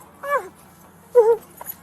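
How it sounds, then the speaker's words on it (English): A dog gives two short whimpering yelps right after being hit with a police taser during an arrest, each cry brief and close, separated by a quiet gap. "Taser deployed on the dog."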